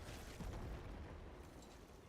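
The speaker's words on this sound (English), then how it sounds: "I'm just kind of running in the direction of the explosions." Explosions in a sci-fi video game featuring an old Macross cannon: a continuous, heavy low rumble with booming bursts near the start, loud and filling the whole stretch, no talk over it.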